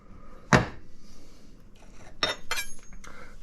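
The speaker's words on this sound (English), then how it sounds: "I'm going to go ahead and do the honing, which is going to fine tune that actual sharpening." A kitchen knife is honed on a HORL or Tumbler rolling sharpener: one sharp metallic clack, then a quiet gap, then a short run of scraping, clinking metal sounds close by.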